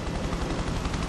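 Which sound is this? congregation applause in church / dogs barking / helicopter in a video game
helicopter in a video game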